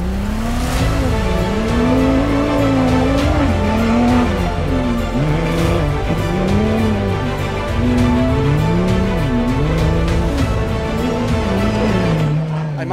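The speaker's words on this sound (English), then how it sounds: "to get to drive one of these top spec T1 plus cars is something special today" Toyota Gazoo Racing T1+ Dakar rally car driving at speed, a loud continuous engine drone rising and falling as it shifts and accelerates, close and sustained throughout.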